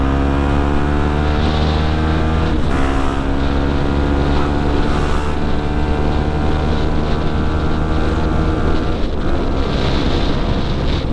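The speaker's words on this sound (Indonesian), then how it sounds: "Ternyata anginnya kuat." Strong wind buffets the microphone while riding a Yamaha WR155R motorcycle, a loud continuous roaring rush layered over the steady tonal hum of the engine, with brief gusty swells and no voices.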